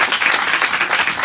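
Dense, steady clapping from a church congregation during a Hindi-Urdu sermon, loud and close, filling the short moment with no voices over it.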